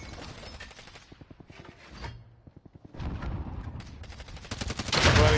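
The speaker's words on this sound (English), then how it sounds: "Firing rocket!" In Warzone, a rocket launch ends the moment with a loud, roaring whoosh-blast. Before it, a string of quick, evenly spaced gunshot clicks rattles off, and then a busier burst of firing and movement builds.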